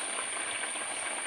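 Fish curry bubbling at a boil in a pot, a steady close hiss of simmering liquid with no voices.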